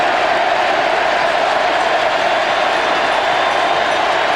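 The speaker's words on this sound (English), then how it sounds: "Crowd chanting, Eddie" A ballpark crowd at a 1995 World Series game, Atlanta against Cleveland, keeps up a steady, broad roar of chanting for Eddie, dense and unbroken throughout.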